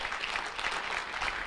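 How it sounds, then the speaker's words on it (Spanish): A church congregation applauds during a Spanish-language sermon on the Holy Spirit: a steady, dense wash of many hands clapping together for a short burst, with no voices over it. "Eso merece un aplauso"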